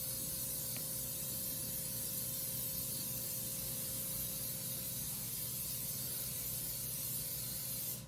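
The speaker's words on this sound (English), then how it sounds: "I'm going to spray the daylights out of this pan because it's got deep grooves." Olive oil cooking spray is sprayed heavily into a deep-grooved bundt pan, producing one long, unbroken hiss that holds steady for about eight seconds at a soft, even level before cutting off.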